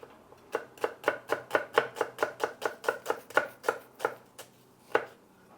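A knife chops red onion on a cutting board in a quick, even run of about twenty close, crisp taps, slowing near the end to a few spaced strokes, with no talking.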